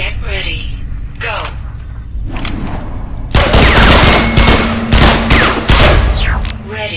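Dense bursts of rapid gunfire erupt while targets are shot in the Interstellar Marines video game. The shots are loud and close, with a talking voice heard over the game audio.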